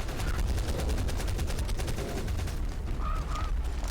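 Rapid gunfire aimed at a creature in the mobile game ARK Mobile during a dungeon maze run with an ape, dense and continuous shots over loud game ambience, with a brief honking call partway through.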